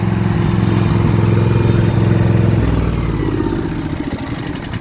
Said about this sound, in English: Take the load off, the idle's down.